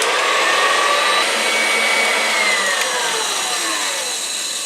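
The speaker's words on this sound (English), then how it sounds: "I'm going to whisk this until it forms soft peaks" An electric mixer beater whirs steadily and loudly, whisking a chocolate raspberry mousse mixture with Truvia until soft peaks form, its pitch shifting slightly as the bowl is worked.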